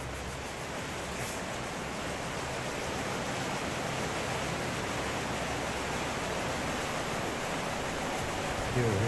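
Heavy rain pouring down during a night thunderstorm, a dense, steady hiss close by and unbroken throughout, with no clear thunder.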